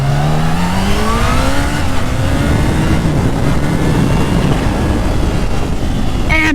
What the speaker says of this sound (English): It's got the blow-off valve tweets from the factory